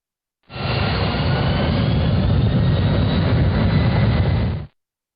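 A jet airliner engine roars in reverse thrust with the levers raised to detent 2, a loud, steady, broadband rush that holds for about four seconds before cutting off abruptly.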